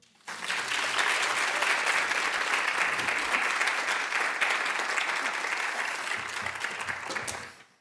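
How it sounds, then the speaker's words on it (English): Applause from the audience at a Women in Science Symposium after a professor's address. Clapping rises sharply, stays full and steady for roughly seven seconds, then tapers off into a low room hum. "another round of applause"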